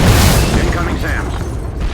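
Surface-to-air missiles explode in the military video game Shadow Strike, giving loud, dense booming blasts and rumble that fill the whole stretch with continuous battle noise.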